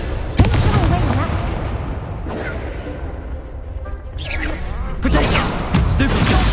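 A Confringo fire spell goes off in a PS4 video game as a sharp booming blast, followed by rumbling game effects and further bursts. A person talks over the noise.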